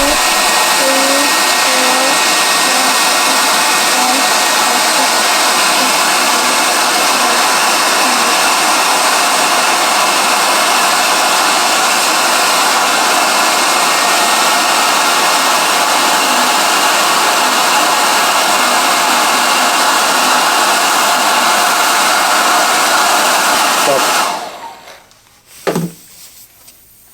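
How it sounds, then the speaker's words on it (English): A hair dryer blows steadily and loudly for about twenty-four seconds, warming a nano tape bubble toy, a continuous whooshing motor hum, then cuts off abruptly, followed by a brief knock. "Now with the hair dryer we warm up."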